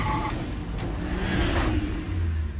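A car drives steadily nearby, its engine hum and road noise holding at an even level throughout with no voices.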